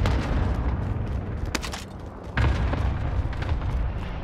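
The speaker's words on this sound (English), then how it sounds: "Precision airstrike miss." Loud, continuous rumbling booms of airstrike explosions in Call of Duty: Modern Warfare, with sharper blasts punching through a dense, sustained roar and a brief dip before the next impact.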